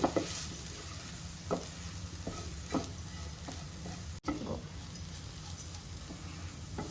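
Masala frying in oil in a pan, a low steady sizzle with scattered soft clinks and scrapes of stirring, close and fairly quiet, no talking.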